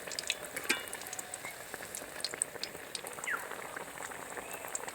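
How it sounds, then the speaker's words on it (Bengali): Banana flower chops deep frying in hot oil, a continuous fine crackling sizzle with scattered pops, steady and close, with no voices. "চপগুলো এবার খুব ভালোভাবে আমি ভেজে নেব।"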